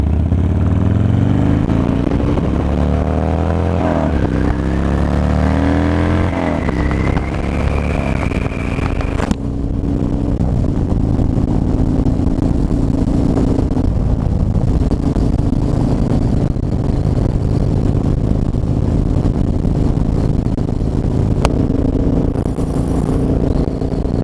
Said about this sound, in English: this new Bassani exhaust sounds great.